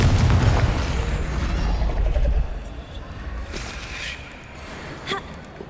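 A Confringo fire spell in the game Hogwarts Legacy lands with a loud, low booming blast in the opening seconds, then fades into quieter ambience with a few faint chirps and taps.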